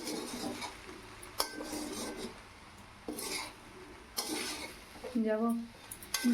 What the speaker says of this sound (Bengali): এই যে মিশিয়ে নিচ্ছি নামানোর আগে একটু ঘি দিয়ে আবার একটু মিশিয়ে নিলেই আমার ফ্রাইড রাইস রেডি হয়ে যাবে